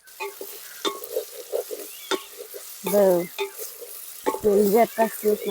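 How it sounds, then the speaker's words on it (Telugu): An omelette being broken into pieces in a frying pan, with a spatula scraping and stirring in short bursts over a light sizzle, close up and moderately loud. "ఆమ్లెట్ అయితే వచ్చింది ఇప్పుడు దాన్ని ముక్కలు ముక్కలుగా విడగొడుతున్నా"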